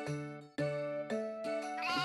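Sheep bleating in the Harvest Moon: Tale of Two Towns farming game, four wavering bleats in a row, fairly close and clear, followed by a brief tinkling chime at the end.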